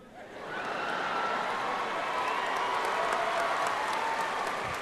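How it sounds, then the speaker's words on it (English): An audience claps steadily for several seconds, a dense wash of applause swelling in at the start and holding loud and even throughout. "Applause"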